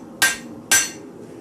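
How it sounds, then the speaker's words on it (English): Two sharp, loud metallic strikes about half a second apart as a hammer, rotated between blows, flattens a piece of metal while making a nut cracker, with no talk. "when I'm hitting, I'm actually rotating the hammer to get this backside"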